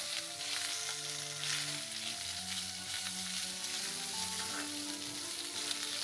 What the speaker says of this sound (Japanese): 油が出てきたら火を少し強めても大丈夫。 焼き色がつくまで焼きます。